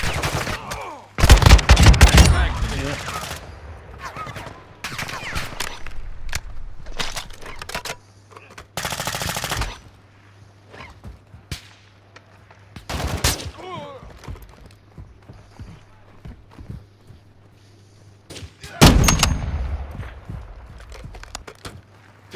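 Call of Duty: Modern Warfare II gunfire comes in several loud bursts of rapid automatic shots, separated by quieter stretches where players talk over radio chatter.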